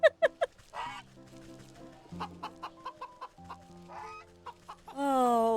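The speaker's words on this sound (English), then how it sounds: "I found a goose." A cartoonish goose in the video game Wytchwood gives a quick burst of sharp honks, followed by a run of repeated clucking calls over a soft musical bed, then a loud, sustained squawk at the end.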